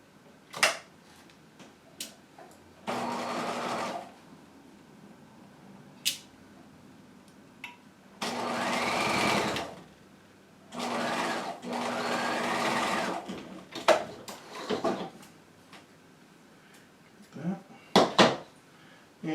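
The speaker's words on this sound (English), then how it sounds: "let's go ahead and stitch these two parts together" A sewing machine stitches a jacket hem facing at a half-inch seam in several whirring bursts of varying length, separated by pauses with small handling clicks and clatter, close and fairly loud.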